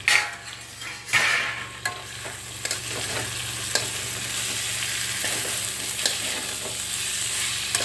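Masala for a mint rohu-style pona fish curry sautéing in a pan, a constant sizzle with scattered stirring knocks and scrapes, a few louder clatters early on.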